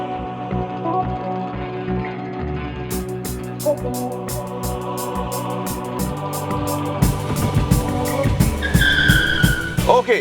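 A Tata Curvv SUV with the turbo petrol Hyperion engine drives hard during a performance test, its engine note rising while the tires squeal and skid loudly on the surface.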